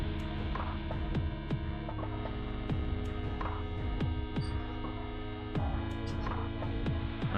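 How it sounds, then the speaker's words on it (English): An airbrush compressor runs steadily throughout, giving a constant low hum with a throbbing pulse and a few faint clicks and taps over it, no voices. "My compressor's still going."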